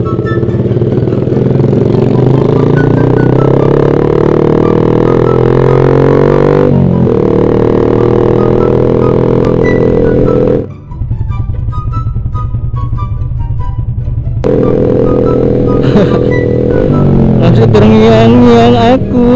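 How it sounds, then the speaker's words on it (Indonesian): Kawasaki H2 motorcycle engine heard up close, a loud sustained roar with rising and falling revs, a brief dip midway, then climbing again; no talking. "Kita mau dengerin suaranya nih dari deket, suaranya H2."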